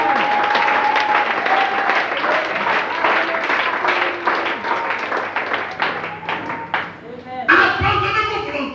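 A church congregation applauds and cheers in a sustained, dense wash of clapping, with a voice carrying over the crowd throughout.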